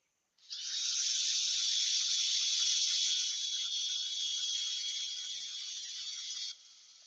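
A piece of olive ash wood is sanded with 120 grit sandpaper, giving one steady, close hiss that starts abruptly, holds for about six seconds, fades slightly, then stops.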